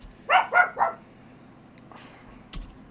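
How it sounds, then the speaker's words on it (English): Dogs bark three times in a quick cluster in an anime scene, sharp and fairly close, then a faint rustle and a brief thump follow near the end. "Dogs."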